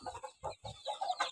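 A rooster on a farm clucks and squawks in short, close bursts, several quick calls in a row with brief pauses between.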